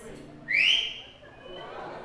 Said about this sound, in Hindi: Can we blow a whistle for Jesus?